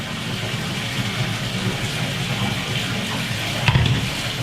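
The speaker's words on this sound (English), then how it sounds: "But I pour it in, as you can see, right through the net." Oatmeal water pours steadily through a net, a continuous splashing, trickling wash with a brief louder splash near the end, no talking over it.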